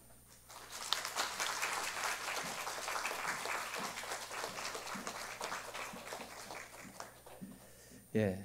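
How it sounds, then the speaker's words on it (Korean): A church congregation applauds during an award presentation at a Sunday morning service, a sustained even spread of clapping at moderate distance, ending with a brief louder knock. "전달하면 박수 쳐주시면 되겠습니다."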